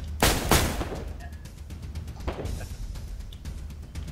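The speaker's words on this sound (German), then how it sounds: "Der knallt mir ab." Gunfire in the survival game DayZ, a pair of sharp loud shots close together followed by a few scattered cracks and reverberant echoes over low background noise.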